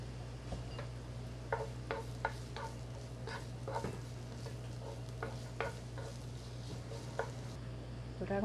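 Japchae vegetables, starting with chilies and then yellow bell pepper, stir-fried in a pan: a continuous soft sizzle with repeated scraping strokes of a spatula at an uneven, steady pace, close by with no talk.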